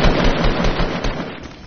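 Rapid, continuous video game gunfire with booming blasts, loud and close, filling a short burst with no voices over it.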